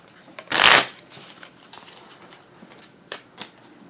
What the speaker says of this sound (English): now I gotta shuffle.